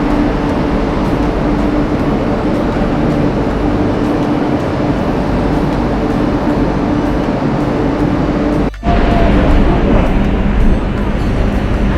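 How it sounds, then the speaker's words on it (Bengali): A Sealdah–Hasnabad local train pulls away from the platform, a loud, close, continuous rumble of wheels and carriages that drops out for an instant near the end before resuming. "ছেড়ে দিল ট্রেন"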